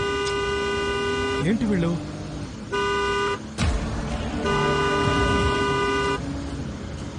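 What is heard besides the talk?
car horn honking repeatedly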